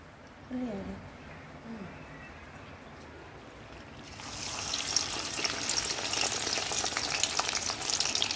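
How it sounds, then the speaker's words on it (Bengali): Ash gourd leaf, potato and lentil fritters frying in white oil: brief speech over a faint background, then a loud, dense, steady sizzle that fills the second half. "এভাবে একটা একটা করে সব কটা আমরা ভেজে নিব।"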